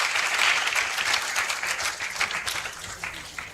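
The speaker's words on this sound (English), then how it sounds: "Let's give a round of applause to our president." A crowd at an African Liberation Day celebration applauds the president with sustained clapping, loud at first and then gradually thinning toward the end, with a few distinct claps standing out.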